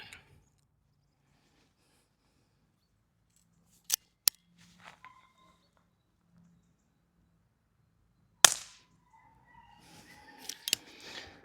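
Air pistol shots at Lego-man targets on a 10 m range during quiet plinking: a few sharp, isolated cracks spaced seconds apart, followed by faint metallic clinks and rustles between them.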